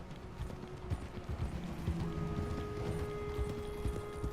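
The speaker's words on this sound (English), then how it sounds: "Red Dead é isso, a galera aqui que anda de cavalo, rapaz." Horse hooves clip-clop in the open-world game Red Dead Redemption 2, with a quick, uneven run of soft thuds under faint ambient game sounds and low tonal music, quiet and steady throughout.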